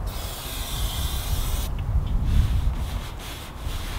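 A cleaner wipes rust-effect rubber paint off a surface, giving a continuous close rubbing, hissing swish with slight pauses near the end.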